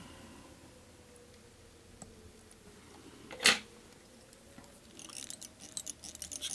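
Small scissors make one faint snip, trimming excess thread while a CDC midge fly is tied, in a quiet room with light handling noise and rustling afterward.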